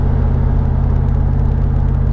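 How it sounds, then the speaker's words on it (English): A Ford Lightning pickup idles with a loud, steady low engine rumble, its throaty drone coming through resonators and a MagnaFlow exhaust with no catalytic converters, even and without revving. "just a set of resonators going out to a MagnaFlow exhaust."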